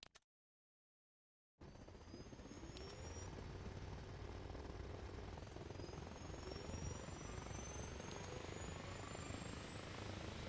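Helicopter in the video game Arma Reforger, starting after a short silence and then a steady, close rotor and engine drone with a rising whine running continuously to the end.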